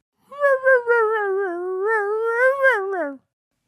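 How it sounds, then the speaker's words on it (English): A puppy wails in one long, wavering, rising-and-falling cry lasting about three seconds, loud and close, with no other sound around it. "Is that a wailing puppy?"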